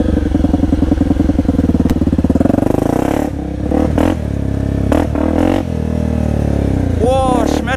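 Motorcycle engine revving while riding along a jungle track, a loud close rattling drone that opens up in bursts with the rider giving throttle, broken by brief dips and rising whines toward the end.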